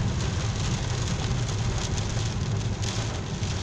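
Steady heavy rain falls during a storm in Alzira and Algemesi, a dense close hiss of drops on surfaces with no break and no voices.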